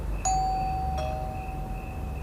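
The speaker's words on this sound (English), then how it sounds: "ring the doorbell" Two bright electronic doorbell chimes ring about a second apart, the second tone lower, then fade into a steady background hum.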